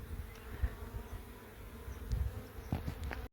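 Honey bees buzz while a beehive is relocated from a Telstra pit. The buzzing is soft and continuous with small swells and ends in a sharp click.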